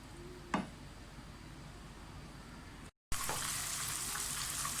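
Onions fry in a pan for a pumpkin and chicken dish, giving a steady soft sizzle with one brief clatter near the start, then a louder, brighter hiss after a short break.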